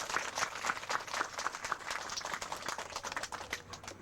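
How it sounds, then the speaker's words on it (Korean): A congregation applauding at a church groundbreaking service, a dense, fairly faint patter of many hands clapping that runs steadily throughout. "네, 박수 한번 하세요."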